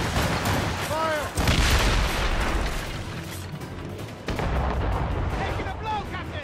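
Naval cannon fire in a ship battle in the video game Assassin's Creed Rogue, heavy booming blasts over a constant din of battle, with shouted voices and whistling projectiles mixed in.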